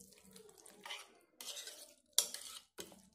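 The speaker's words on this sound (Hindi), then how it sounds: "हमारी वेजेस इन सब को भी मिला लें।" Vegetables for a Spanish omelet stirred in a bowl, short bursts of scraping and clinking utensil strokes separated by brief pauses, close and fairly quiet.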